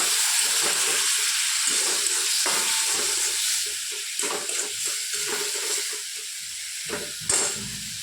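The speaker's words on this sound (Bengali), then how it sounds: "সামান্য জল দিয়ে মশলাটা কষে নেব একটু।" Spice paste with tomato and a little water frying in a pan for a fish-head mung dal, a steady close sizzle with soft stirring scrapes and occasional louder bursts.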